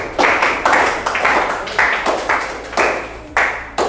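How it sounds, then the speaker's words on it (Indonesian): A group claps in several quick bursts, loud and close, with brief pauses between rounds of applause. "kasih tepuk tangan dong untuk kelompok 6"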